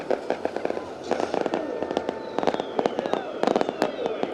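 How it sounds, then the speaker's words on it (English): Fireworks bursting over Eldora Speedway during a dirt late model race event: rapid crackling pops and sharp bangs in dense irregular clusters, loud and sustained over crowd noise. "Got the fireworks, the whole deal."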